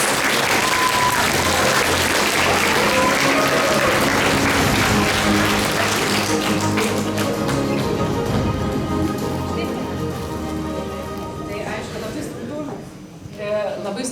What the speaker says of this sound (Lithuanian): Padrąsinkit aplodismentais.